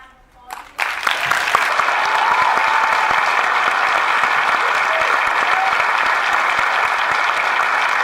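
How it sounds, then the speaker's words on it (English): Audience applause for Luc Besson at a 2017 Valerian Q&A in Sydney: a brief voice, then loud, sustained clapping from a packed room that swells quickly and stays even to the end. "Everyone, if you could please give Luc a round of applause."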